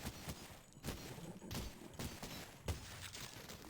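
Upgraded pistol firing in the shooter game Cultic, several sharp shots spaced roughly half a second apart, fairly quiet overall against a busy game background.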